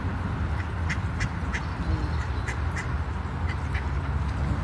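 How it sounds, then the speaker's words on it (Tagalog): Several mallard ducks quack intermittently at a pond over a steady outdoor background hum, the calls moderately close and overlapping at times. "Ang dami pato dito."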